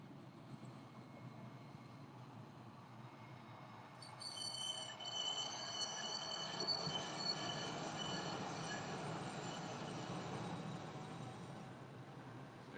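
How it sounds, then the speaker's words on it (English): A streetcar passes by on a foggy street, a low rumbling roll that builds and stays steady, with high metallic wheel squeals and screeches rising partway through, moderately distant. "Here comes another streetcar."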